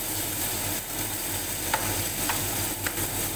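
Ingredients for pancit canton being sautéed in a pan: a steady sizzling hiss with a low hum beneath and a few light utensil scrapes and taps, close, without any talking.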